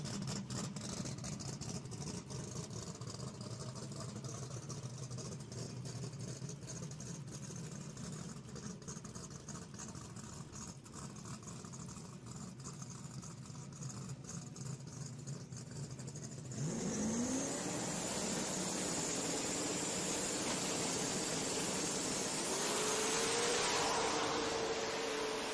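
1972 Chevrolet Nova drag car racing down the strip at Virginia Motorsports Park during PDRA Mid-Atlantic Showdown: a steady engine roar under crowd din, then a louder surge of higher-pitched engine sound with rising whine for the last stretch.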